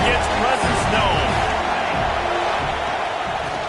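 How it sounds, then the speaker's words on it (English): A football stadium crowd roars in a dense, continuous wash of cheering throughout, with a commentator talking over it. "This crowd ready to make its presence known."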